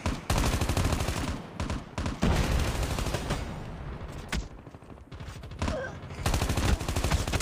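Sustained heavy gunfire in the shooter game Call of Duty Mobile during a ranked match, dense rapid automatic bursts running almost continuously with brief gaps, loud and close throughout.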